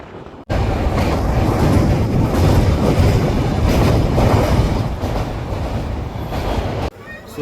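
A passenger train out of Kolkata pulls away from a station on a night journey, its steady, loud rumble and wheel clatter filling the carriage, with a brief quieter gap at the start and end.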